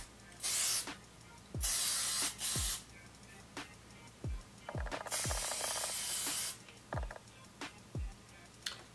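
Short bursts from a wig bonding spray, about four hisses spaced a second or two apart, close and loud, with small clicks and handling noises between them.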